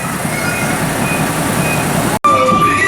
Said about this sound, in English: So the train ride is really, really long.